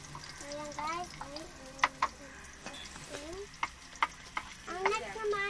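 Garlic frying in a pan for Filipino chicken or pork adobo, a steady low sizzle with occasional sharp stirring clinks, while voices talk over it throughout.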